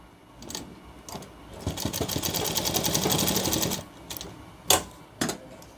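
A sewing machine stitches a shirt placket in one steady close run of about two seconds, framed by a few sharp clicks and handling knocks before and after.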